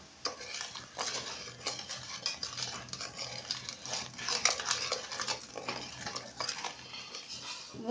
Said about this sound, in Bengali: এই লিকুইড দুধের সঙ্গে গুঁড়ো দুধ বেশ ভালো করে মিশিয়ে নেব।